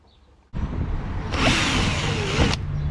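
After a brief quiet moment, a power drill whirs 8mm holes into a plastic boat, a close, steady buzzing grind that rises slightly in pitch partway through.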